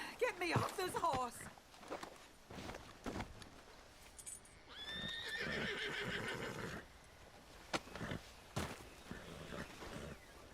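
A horse in the Red Dead Redemption 2 video game whinnies loudly near the start and again midway, with hoof clops and people talking around it.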